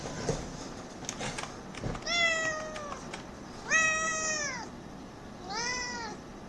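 A pet cat meows three times, drawn-out and close, each cry separated by a pause, with some rustling and handling noise before the first one.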